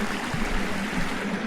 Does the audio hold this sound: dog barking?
no